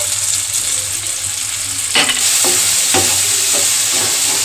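Roasted cumin, coriander, dried chili and bay leaf powder is stir-fried with chicken in a kadai, a loud continuous sizzle punctuated by rhythmic spatula scrapes against the metal pan.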